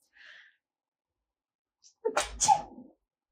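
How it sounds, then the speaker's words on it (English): A single loud sneeze bursts out near the microphone, preceded by a brief faint sound and a sharp intake, then silence. "I'm going to sneeze."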